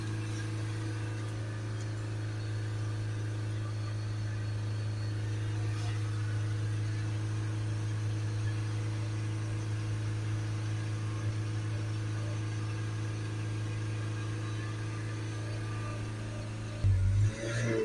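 A Ford Transit Connect 1.5 diesel van engine with a blocked DPF drones at a constant high idle around 3000 RPM, holding one pitch for a long stretch, with a brief louder change near the end.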